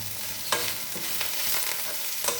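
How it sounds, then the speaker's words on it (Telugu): Tempering spices crackle in hot oil as coriander leaves go in, a loud dense sizzle with a few sharp stirring clinks and scrapes over about two seconds. "చక్కగా ఈ పోపు ఇలా వేగింది కదా"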